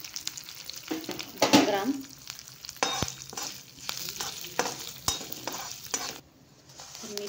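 Fenugreek seeds dry roasting in a pan for homemade kala masala: a steady, fairly quiet dry rattle and crackle, broken by sharper scraping stirs, with a brief word spoken once.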